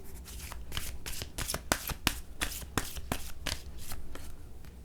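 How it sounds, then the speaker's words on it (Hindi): Tarot cards being shuffled by hand, a rapid run of crisp riffling snaps and flutters, close and fairly loud, with no talk. "कार्ड की शफलिंग आपको मिस नहीं करनी है किसी भी हालत में।"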